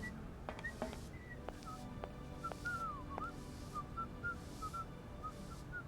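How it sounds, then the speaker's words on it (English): In the video game Syberia, a character whistles a meandering tune of short notes, faint and slightly distant, with a few sharp clicks scattered underneath. "He's just whistling away."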